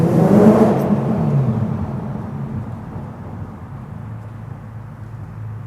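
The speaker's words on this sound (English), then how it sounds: "It's just like such a good sounding BMW" A BMW on Ohlins Road & Track coilovers revving, a loud close engine roar that swells then gradually fades and settles into a steadier drone, no voices.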